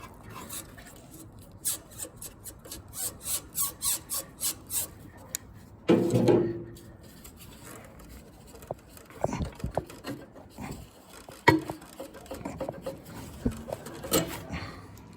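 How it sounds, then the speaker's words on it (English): A fuel hose clamp is worked loose and pulled off a Miller Bobcat 225G welder, with close scraping and rubbing, a rhythmic rasp, a louder burst of friction, then scattered clicks and knocks of metal and hose handling. "We'll loosen the hose."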